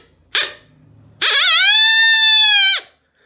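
A coyote call imitates a young pup: a short sharp bark, a brief low pause, then a long sustained rising howl with rich harmonics. The sound is loud and close, with no talking.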